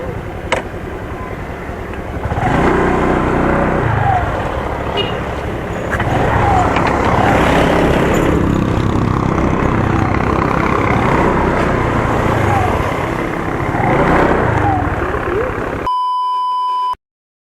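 A motorcycle engine idles steadily nearby on a long-distance ride stop, a continuous rumble with traffic noise around it and a few brief beeps, ending with a short electronic tone.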